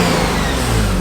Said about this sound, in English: once it starts to rev higher, it'll probably get louder